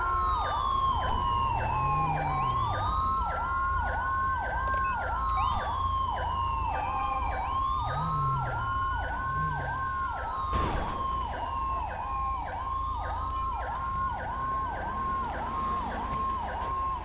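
An ambulance siren in the video game Grand Theft Auto V wails steadily and close, with a repeating rising and falling cycle over a low engine rumble and no talk.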